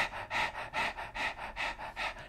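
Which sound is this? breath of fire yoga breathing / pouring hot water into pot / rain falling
breath of fire yoga breathing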